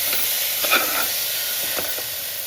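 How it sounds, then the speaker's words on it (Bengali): Raisins frying in a pan, with a steady bright sizzle and a few sharper scraping stir strokes against the metal, close and loud, with no voices. "কিশমিশটা দিয়ে একটু ভালোভাবে ভাজা করে নিচ্ছি।"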